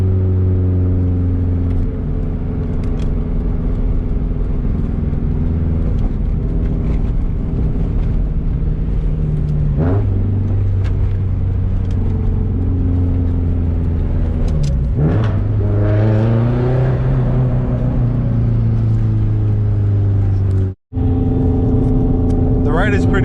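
A 2004 Subaru WRX STI drives at night, its engine a steady close drone throughout, rising and shifting in pitch through gear changes with a brief drop near the end, while a person talks over it.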